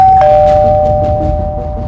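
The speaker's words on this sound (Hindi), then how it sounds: "तभी डोरबेल बज गई" An electronic doorbell rings once in a TV crime drama, with a clear sustained tone that fades slowly, loud and close, with no voices.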